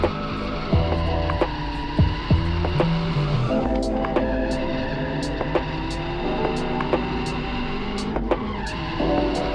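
A drift car slides through a sweeping corner on a track with wet patches, engine droning loud and continuous while tires squeal and skid in long sustained bursts, with a few sharp knocks along the way.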